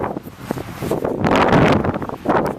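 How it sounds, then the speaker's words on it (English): Strong wind buffets an outdoor microphone on the grounds of the old Western State mental hospital, a rough, gusty roar that swells through the middle and surges again near the end, with no voices. "the audio on this might be sucking right about now because it's really windy"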